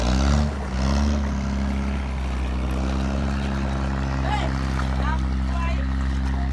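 A boat engine drones steadily at sea off Bo Chet Luk beach in Satun, Thailand, a loud low hum throughout with a short surge at the start while someone talks over it.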